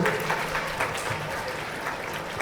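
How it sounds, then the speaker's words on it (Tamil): Students and teachers at a school Pongal poetry event applaud to welcome the poets, steady dense clapping filling the room without a break. "அவங்களுக்குலாம் ஒரு படத்தை கரகோஷம் கொடுத்து அவங்களை வரவேற்போம்."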